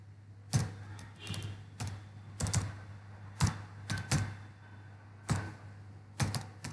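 Keys on a computer keyboard clatter as a post is typed, in short irregular bursts of taps separated by pauses over a low steady hum.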